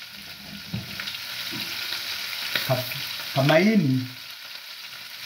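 Traditional vegetables sizzling steadily in a hot frying pan, with faint clinks and a short burst of speech over the hiss toward the end.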